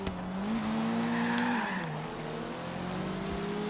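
A racing car in Forza Horizon 3 on Xbox One drones close up with a rising, shifting engine note, its revs climbing then dropping, alongside brief tire squeal.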